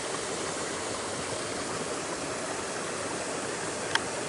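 Creek water over red chert stones runs in a steady, broadband rush that stays even throughout, with one brief sharp tick near the end and no talking.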